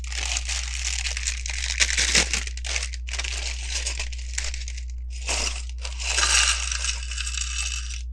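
A plastic bag of Lego pieces for a flower bouquet set is crinkled and crushed in bursts, with loose bricks shifting inside, close and fairly loud, with a steady low hum underneath.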